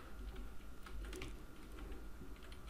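Quick keystrokes on a computer keyboard, clustered and uneven, sounding close but soft over a steady low background hum.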